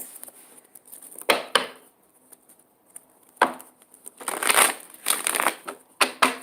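A deck of cards is shuffled close up in several quick riffling bursts, each a crisp flutter that ends in a snap, with short quiet gaps between them and no talking.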